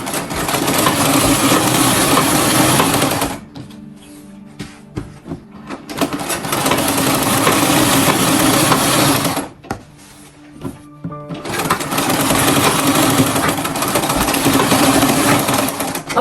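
A sewing machine stitches a button shirt in loud, fast mechanical bursts, running in three long stretches separated by brief pauses with quieter clicks and handling noises.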